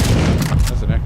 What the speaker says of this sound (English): That's an accurate sniper rifle.